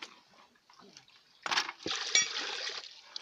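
Water pours into a basin (legen) in a workshop setting, a broad splashing rush starting partway through and continuing steadily near the mic, with quiet talk and clinks before it.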